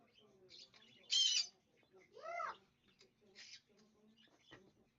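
A big pet bird gives a loud squawk followed by a rising, harmonic call and a few shorter chirps, fairly close in a quiet indoor room, with a faint background of other noise.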